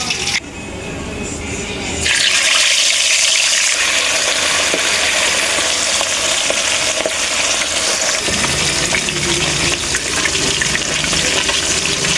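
Tilapia fish fries loudly in hot oil in a wok, a broad continuous sizzle and crackle that starts abruptly after a brief quieter moment and carries on steadily.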